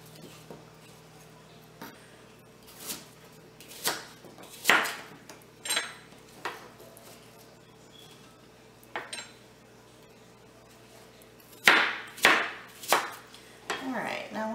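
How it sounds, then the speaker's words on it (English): Apples are cut into chunks with the skin left on for a no-bake red hot apple pie; sharp irregular knife strikes on a board and clinks of dishes sound close and quiet, with short pauses between bursts. "you're just going to take your apples, get them cut up"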